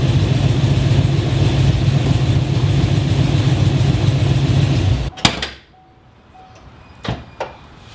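A 2016 Chevrolet Silverado with a naturally aspirated setup idles with a loud, steady low drone, then shuts off abruptly with a thump. A few sharp clicks and knocks follow in near silence.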